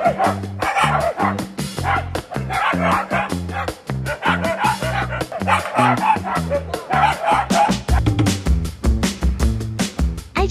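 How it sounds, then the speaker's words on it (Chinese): Shiba Inu dogs bark sharply and repeatedly at a white Shiba Inu companion, with quick yips and bow-wows riding over a steady rhythmic musical backing for about ten seconds. "对着白柴朋友猛吠"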